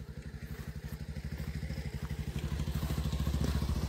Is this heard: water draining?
no